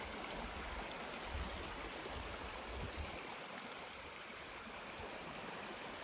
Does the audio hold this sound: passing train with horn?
no